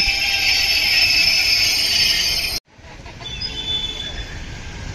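A train at Lonavala railway station in rain, rumbling and screeching loudly with a high metallic whine, cutting off abruptly before a quieter rolling rumble and wheel squeal continue.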